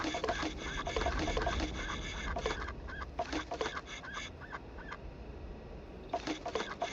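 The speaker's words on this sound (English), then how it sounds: "You're gonna hear a lot of quacking tonight." Repeated quacking squawks from wooden duck toys in the video game DarkStar, arriving in dense bursts with short pauses over a busy, cluttered game background.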